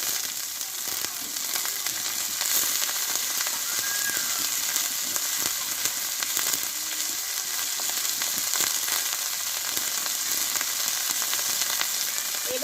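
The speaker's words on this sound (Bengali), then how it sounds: "এবার এখানে কেটে ধুয়ে রাখা বাঁধাকপিটা আমি দিয়ে দেবো" Chopped, washed cabbage is added to a pan of frying ginger and green chilli, and a dense, steady hiss of frying follows, loud and close, continuous with faint stirring scrapes and no voices.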